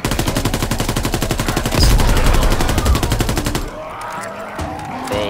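Sustained rapid automatic fire from a GDB 79 assault rifle in a WWII shooter game, a dense loud burst with a heavier crack partway through, then stopping and leaving quieter game ambience.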